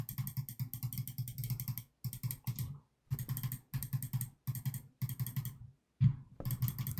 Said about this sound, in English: Spamming that mouse button real hard right now.